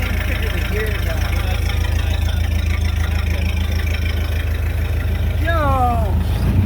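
Ford Model A rat rod engine running at a steady, loud low rumble throughout, with voices talking over it and a short rising vocal exclamation near the end.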